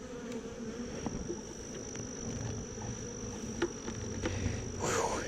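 Honey bees hum around a hive during a mated queen introduction, a soft continuous buzzing drone outdoors with occasional louder passes close by near the end, no talking.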